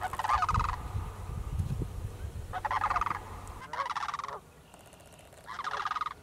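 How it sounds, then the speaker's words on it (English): Sandhill cranes call in a marsh with several separate rolling, bugling bursts at a moderate distance, the first ones over a low rumble of background noise that drops away halfway. "Sandhill cranes. This is the first year I've been able to confirm that they're in this marsh."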